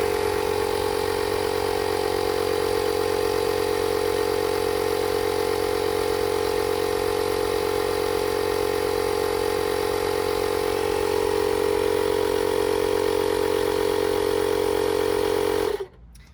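An air compressor runs with a steady, loud mechanical drone while inflating a Tannus Armour bike tire, then cuts off abruptly near the end.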